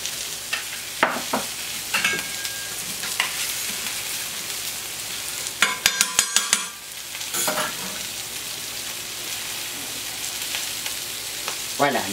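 Semi-dried tomato pieces sizzle steadily in a hot pan, a continuous crackling fry with a few louder clattering stirs partway through, with no talking.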